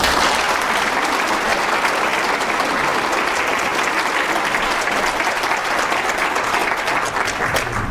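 A seminar audience of tax office staff welcomes a visiting Buddhist monk with loud, even, continuous applause that holds steady from start to finish.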